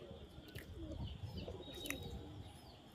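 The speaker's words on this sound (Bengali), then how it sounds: "এই যে নিচে চলে এসছে, এই যে পায়রা বসছে দেখুন" Pigeons coo softly and intermittently as they settle, with a few brighter chirps and faint background noise in a quiet outdoor setting.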